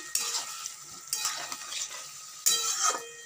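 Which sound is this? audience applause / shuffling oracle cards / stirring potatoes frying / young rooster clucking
stirring potatoes frying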